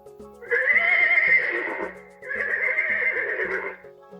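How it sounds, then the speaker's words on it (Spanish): A horse whinnies twice in a row, each loud, shaky neigh lasting over a second, with a short gap between them, set over a soft, steady background tone. "El caballo."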